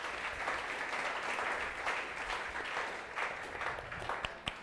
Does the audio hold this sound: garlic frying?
no